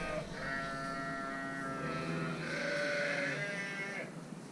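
Sheep bleating on a farm during shearing, a long drawn-out bleat followed by another sustained bleat at moderate distance, over a low background hum.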